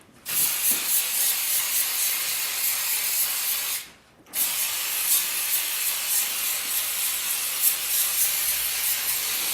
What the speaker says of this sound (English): We're going to spray all the blonde ends,